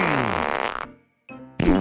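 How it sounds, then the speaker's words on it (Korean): Cartoon fart sound effect in a Korean children's folk tale, two loud blasts, a long low rumble, then a brief pause and a second burst, with no voices. "엎치락 뒤치락 하던 두 사람은 마지막으로 힘껏 방귀를 뀌었어요"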